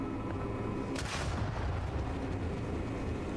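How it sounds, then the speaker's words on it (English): A grenade going off in the video game Starfield, one sharp blast about a second in that decays into a rumbling tail over a steady low ambient drone. "Oh, that was a grenade."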